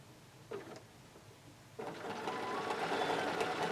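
A sewing machine quilts along the edge of a ruler, starting with a few short stitching bursts and then running in a steady, fairly close whir with no talk.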